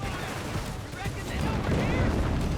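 Munitions cache blowing up in Company of Heroes 3, a desert-versus-US-forces battle, heard as a dense rumbling blast that swells louder in the second half, mixed with distant gunfire and a commentator talking over it.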